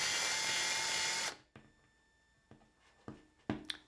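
A power drill widening a hole in drywall whirs steadily for over a second, then stops, followed by a few scattered scraping and clicking sounds.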